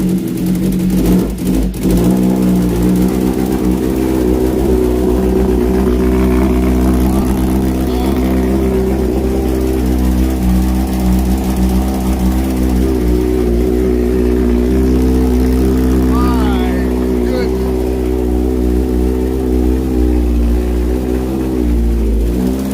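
A 2024 Honda CBR1000RR-R SP sport bike fitted with a tuned BT Moto exhaust runs close and loud, holding a deep, steady idle with mild rises in revs throughout.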